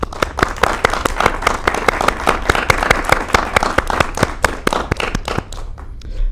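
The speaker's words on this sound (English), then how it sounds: "Warm applause to everyone." Warm applause at a university psychology graduation celebration: dense, sharp claps in a steady busy wash, close and loud, thinning out toward the end.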